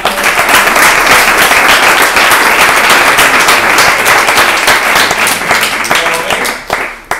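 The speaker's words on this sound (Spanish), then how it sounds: "Otro fuerte aplauso, Marcelino" Loud audience applause at a design conference talk, a dense, steady burst of clapping from a packed room that swells and then tapers off near the end, with a faint voice underneath.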